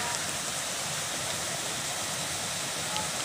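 Rushing water of Kaputian Falls in Borongan City, heard from the trail before reaching the main falls: a steady, dense broadband roar with no breaks, moderately loud and continuous.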